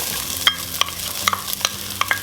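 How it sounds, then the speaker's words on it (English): Onions sautéing in a pan for a Texas cowboy stew, a soft steady sizzle with occasional scrapes and taps of a utensil stirring, close by, with no talking. "We're just gonna saute up some onions just to get things started here."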